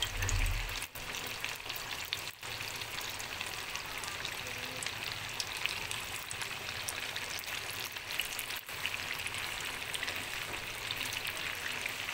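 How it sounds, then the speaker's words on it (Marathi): Sabudana vada frying in hot oil, a continuous even sizzle and crackle that stays steady throughout, close by and fairly quiet, with no talking. "हे पहा, आपलं तेल गरम झालेलं आहे, आपण तळून घेऊया"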